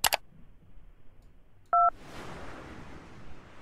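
A single short telephone keypad tone sounds during an automated collect call prompt. It comes after a brief click at the start and is followed by faint line noise.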